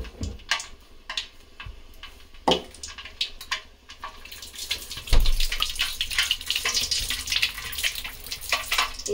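A piece of garlic kebab drops into hot oil: first a few light clicks and taps, then a rising, close hiss of frying that keeps bubbling to the end.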